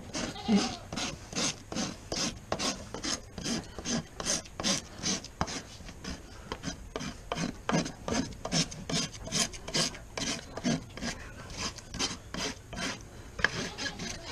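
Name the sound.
farrier filing a horse's hoof with a rasp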